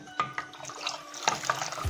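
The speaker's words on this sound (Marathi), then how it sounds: "आता बघत बघत ह्याच्यामध्ये आपल्याला पाणी घालायचे" Water added and stirred into pani puri water in a bowl, with light clinks of a spoon against the vessel and soft liquid swishes in short bursts, close and quiet.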